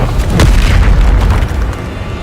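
A Bombarda blasting spell explodes in Hogwarts Legacy, a loud deep boom with a heavy rumbling roll that fills the whole moment and slowly fades.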